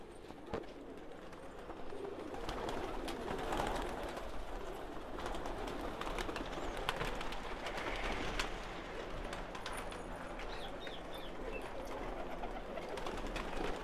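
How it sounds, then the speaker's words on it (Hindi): A large flock of about five thousand pigeons coos steadily in a loft, with continuous layered cooing and wing rustles, moderately loud and close, without talk. "आप एक दफा इन कबूतरों को एंजॉय करें।"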